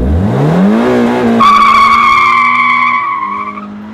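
A Toyota GT86 driven hard on a race circuit, its engine note rising steadily under acceleration before a gearshift, then a strong sustained tone with tyre squeal, loud and close throughout.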